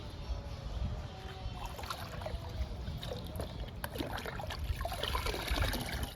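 Homemade liquid fertilizer made from kitchen waste poured onto potted plants, a steady close trickle and splash of liquid running continuously with soft irregular gurgles.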